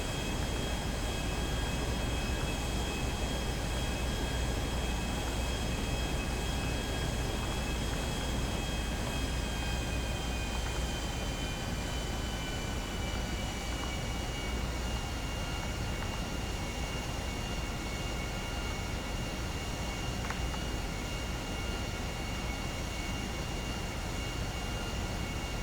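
An airplane flies in the video game GTA V, its engine a constant, loud droning roar with steady high whining tones that hum unbroken for the whole stretch with no voices.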